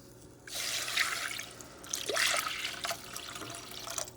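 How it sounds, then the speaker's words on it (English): Water splashes and gurgles into a pot of ginger and turmeric tea in two bursts, a steady pour with bubbling, dripping sounds close by. "You add some water."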